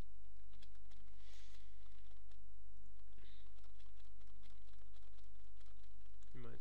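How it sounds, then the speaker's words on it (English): Typing on a computer keyboard while working in software, a steady run of light clicking keystrokes close by over a constant low electrical hum. "I'm doing this with the keyboard, by the way."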